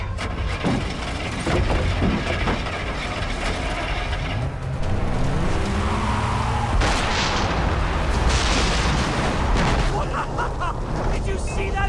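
An explosion goes off near a vehicle in Far Cry 3: a heavy rumbling blast swells midway through a loud, dense action scene with engine noise and clatter, while voices shout over it.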